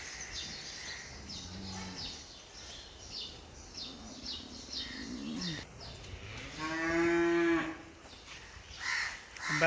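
Cattle low at a crowded cow shelter holding four to five hundred cows and calves. One long, loud moo rises near the end over a quieter stretch of farmyard ambience, with an earlier fainter call and a few bird caws.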